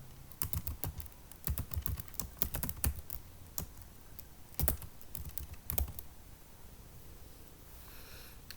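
Keys on a computer keyboard are tapped in quick irregular bursts, crisp and close, while a name and address are typed into a word processor; the typing thins out toward the end, leaving quiet room tone.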